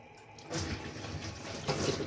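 Water pours in a steady, gurgling stream into goat lungs, growing louder after a brief quieter start, with a splashing, filling quality throughout.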